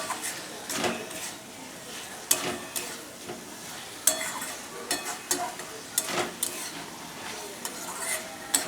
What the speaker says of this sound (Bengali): এবার মশলা থেকে তেল ছাড়া অবধি ভালো করে কষিয়ে নেব